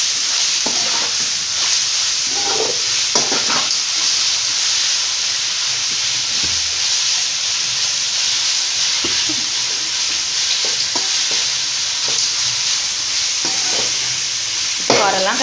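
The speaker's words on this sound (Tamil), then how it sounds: "இப்போ நல்லா கலந்துக்கோங்க" A spoon repeatedly scrapes and stirs grated gooseberry (amla) in a hot pan for gooseberry rice. The scraping strokes are irregular and close, over a constant loud sizzle and hiss, with no talking.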